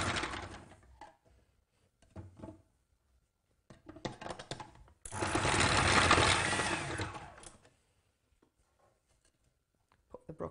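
A food processor with a grater attachment whizzing loudly for about three seconds while baby food is made, with short bursts of kitchen clatter and quiet gaps before and after.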